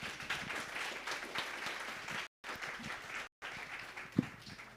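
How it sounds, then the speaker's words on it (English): A round of applause from an audience at a product development workshop, steady crowd clapping that runs on with two brief cuts to silence, plus a faint voice now and then. "Round of applause for this young man."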